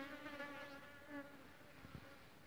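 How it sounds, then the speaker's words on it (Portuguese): A swarm of mosquitoes whining around the microphone at dusk in the countryside, a steady, close, high droning buzz with shifting pitch and no voices. "Muito mosquito, galera."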